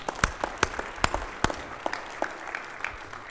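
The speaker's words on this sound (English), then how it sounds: "let's give them a big round of hand, kind of applause" A small conference audience at a business panel on social media claps sparsely, with a few distinct, evenly spaced handclaps standing out over quieter clapping.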